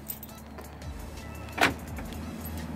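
A car unlocks with its remote key fob: a quiet mechanical whir, then a single sharp clunk of the latch near the middle, over a low steady hum, with no voices.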